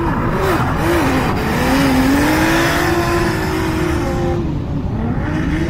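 A turbocharged BMW S54 engine in a drift car revs loudly, its pitch rising and falling as it pulls hard, with a rough roar of exhaust and tire noise throughout.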